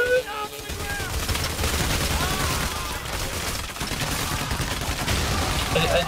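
Fire grenade blast and sustained gunfire during a Payday: The Heist shootout, dense and loud throughout with overlapping bursts and game effects.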